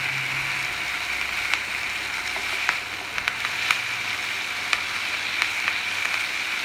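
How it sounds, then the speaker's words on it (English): Butter and thyme sizzle in a hot pan alongside a flank steak, a steady crackling hiss with scattered sharp pops, close and even throughout with no talking. "So we're going to throw our butter in now."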